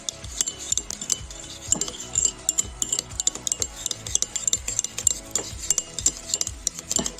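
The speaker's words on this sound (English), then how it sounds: "And you mix it together." Burger mince being mixed by hand with salt and pepper in a bowl, a close, steady run of soft squelching stirs punctuated by sharp utensil clinks against the dish, with no talking.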